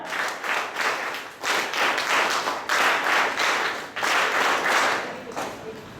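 An audience claps at a closing ceremony of an alcohol de-addiction camp, with sustained applause in several swelling waves. It holds steady and fairly loud for about six seconds, with no voices over it.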